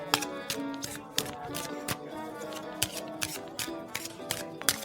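A triple-shuffled deck of playing cards is flicked through quickly, giving a rapid run of crisp, uneven snapping clicks that stays close and fairly loud, with no talking.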